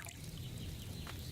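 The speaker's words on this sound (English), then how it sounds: "So, what did you pour in there? Wine, of course." Wine is poured into a cauldron in the video game Kingdom Come: Deliverance II, a short, soft liquid trickle with a faint gurgle.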